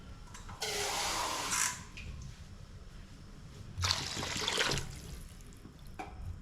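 Water splashes into a pot of snail gravy being cooked, in two distinct pouring bursts of a second or so each, close and fairly loud, with quieter stirring noise between.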